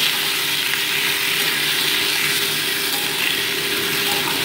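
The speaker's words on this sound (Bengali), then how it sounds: "তারপরে অ্যাড করে দিচ্ছি আমি কেটে রাখা টমেটো কুচোগুলো, দিয়ে মোটামুটি এটাকে 2 মিনিট ভালো করে আমি কষিয়ে নিচ্ছি" Chopped tomatoes being sautéed in hot oil with mustard seeds for a tomato and morola fish sour dish, giving a steady, even sizzle that fills the whole stretch at close range with no voices.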